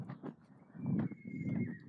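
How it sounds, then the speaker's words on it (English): A show-jumping horse lands after clearing a single fence during a training session, with a few dull hoof thuds and snorting breaths close by, quiet and brief. "this horse already lands correct"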